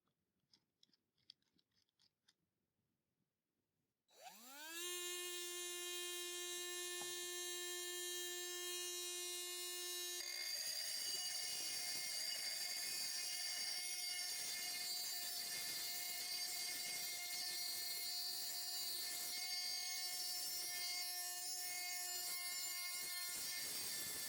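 A high-pitched engraver rotary tool with a burr bit whines up to speed and grinds steadily against a hard plastic casing, a loud continuous buzz that lasts without pause.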